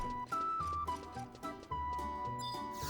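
Horse hooves clip-clop in a quick, steady rhythm in the video game Final Fantasy XI, joined by a bright, sustained melodic tone and soft background music.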